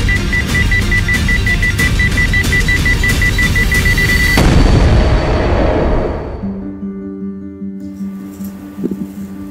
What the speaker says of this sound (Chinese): 马上要爆炸了，快 走！